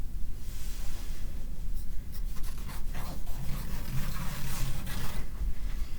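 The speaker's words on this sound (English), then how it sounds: "all I'm going to do is take these scissors and put in that." Steady scraping and snipping of scissors through quilt backing fabric, close up, with a continuous rough rustle and a few sharper cuts, no voices.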